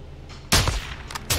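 Gunshots in the Call of Duty: Modern Warfare 2 campaign, two sharp, loud reports about a second apart, each followed by a brief echoing tail.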